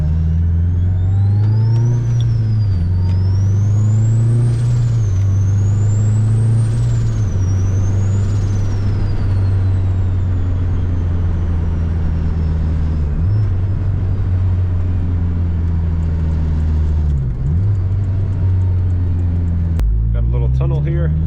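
Big-turbo Honda Accord driving and accelerating, a loud, close engine drone that climbs and drops through gear changes, with a rising turbo whistle layered on top during the first pulls.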